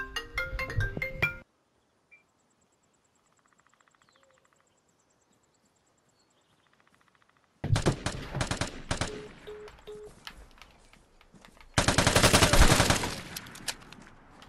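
Rapid automatic gunfire in the Vigor video game, loud bursts at the start and again after a quiet stretch with faint beeps, then a dense sustained volley near the end.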